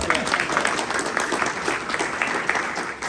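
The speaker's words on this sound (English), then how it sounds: "So, hey, clap for that." Audience at an anime convention podcast panel claps steadily for about three seconds, a dense patter of many hands filling the room, with faint voices mixed in.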